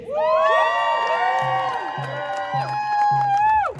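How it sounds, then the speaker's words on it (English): Crowd at a street march against militarism in Cardiff cheering and whooping loudly and continuously, with sustained shouted voices layered over one another and a steady hum beneath. "I want you to give her a big round of applause"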